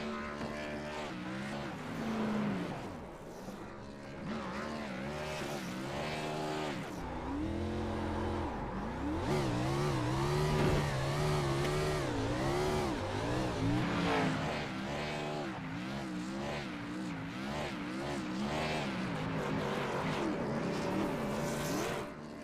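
Race winner's celebratory burnout in an All-Star race at Charlotte Motor Speedway: a race car engine revving and wailing through repeated rising and falling pitches, with tire squeal and crowd-level background noise throughout.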